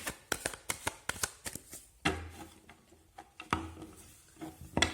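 Tarot cards being shuffled by hand in a rapid run of sharp riffling slaps and flutters, with two longer bridging riffles partway through, close and clear with no talk.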